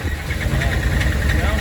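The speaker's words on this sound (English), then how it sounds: "it's got the Hemi Tick. It's got a bad cam, bad lifters." A 2010 Dodge Ram Sport with a Hemi engine suffering a bad cam and lifters idles steadily with a persistent low rumble and a fast, light ticking layered over it, heard close and continuous throughout.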